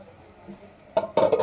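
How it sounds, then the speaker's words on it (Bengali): A metal lid clatters onto a cooking pot with two close clanks and a brief rattle, following a quiet lull. "ঢাকনাটা আমি দিয়ে দিলাম।"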